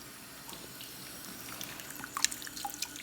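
Hot water drips from a steamer in faint scattered drops and soft splashes over a quiet hiss, growing a little busier toward the end.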